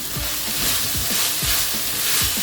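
Vegetables with chilli powder and pav bhaji masala sizzle in a pan for egg shawarma filling, with steady frying hiss and repeated scraping stirs of a spoon at an even rhythm, close by and with no talk.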